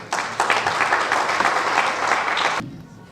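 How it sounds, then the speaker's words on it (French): A crowd applauds at a Senegalese accountants' club ceremony awarding honorary diplomas to teachers, steady dense clapping that lasts about two and a half seconds and then stops abruptly. "Et applaudissez la classe, s'il vous plaît."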